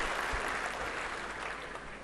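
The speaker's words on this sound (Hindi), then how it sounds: "मैं एक बार फिर इनके लिए कहता हूँ तालियां बजाएं।" Steady applause from a crowd at a Pravasi Jat convention, a dense even wash of clapping filling the whole moment with no voices on top.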